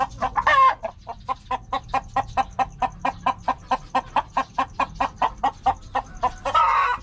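Old hens cluck in a rapid, steady rhythm of repeated calls, close and fairly loud, with a couple of busier bursts at the start and end.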